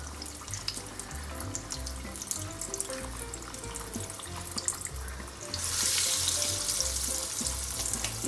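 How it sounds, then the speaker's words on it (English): Corn rolls sizzle and bubble in hot oil on a high flame, a steady crackling fry that grows louder and brighter partway through. "Initially we'll be frying them on high flame."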